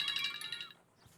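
A phone ringtone chiming brightly for under a second, quiet and fairly close, then cutting off into near silence.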